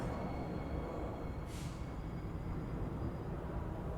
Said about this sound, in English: I heard the train came in.